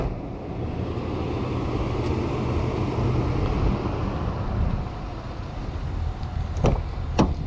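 A 2023 Infiniti QX80 with a 5.6-liter naturally aspirated direct-injected V8 drives along, a steady low engine drone and road rumble from inside the cabin, with a couple of faint clicks near the end.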